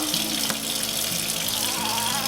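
Tap water runs steadily to rinse a puppy during a bath at home, a constant close rushing stream with a faint low hum beneath and no talking.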